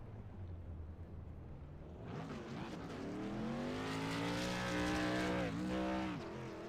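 A modified race car at New Smyrna revs hard through a burnout, its engine note climbing into a sustained, loud, wavering roar with screeching tires after a quieter idle at the start.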